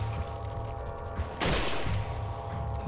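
Rapid gunfire in the Resident Evil 4 video game, a dense burst of shots swelling into a loud blast midway, over a constant game soundscape.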